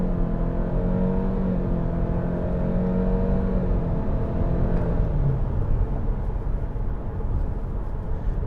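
A 2021 Chevy Malibu RS with a CVT accelerates under steady throttle. The engine gives a smooth, droning whir that climbs gradually, heard from inside the cabin over constant road rumble.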